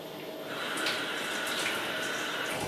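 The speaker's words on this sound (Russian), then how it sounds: "Сливаем воду." Water from boiled potatoes pours through a colander into a sink, a steady hissing splash that runs continuously and fairly loud from start to finish.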